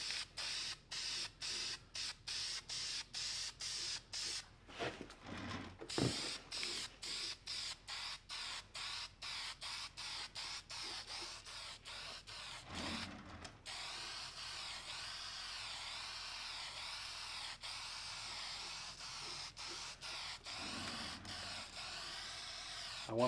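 Krylon camouflage olive spray paint hisses from an aerosol can onto an old Great War helmet in a series of short, rapid bursts, followed by a longer steady spray, loud and close with no talk.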